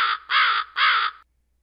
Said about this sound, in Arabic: الغراب